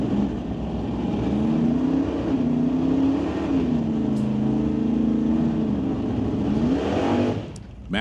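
A drag racing car does a burnout at the start line at an NHRA Summit ET Series finals event, its engine roaring loud and steady with wavering revs for several seconds before dropping off.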